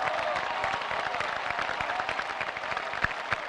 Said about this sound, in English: What I hear looks like a local village, community, local government clapping.